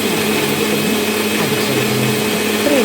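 A mixer grinder blends a chutney of tomato, onion and dried chilli. It gives a loud, steady, continuous motor whir with a churning grind, and no voices are heard.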